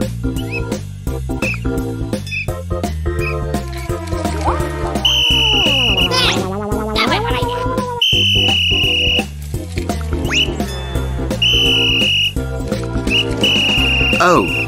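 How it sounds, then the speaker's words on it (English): A cartoon whistle shrills in several loud, sustained blasts, repeated at intervals over a busy animated soundtrack of music and effects. "Can you tell me what that is? It's a whistle!"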